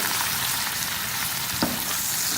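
Sliced large onions fry in hot oil for bhindi gosht (mutton with okra), giving a steady close sizzle with one brief sharp crackle near the end and no talking.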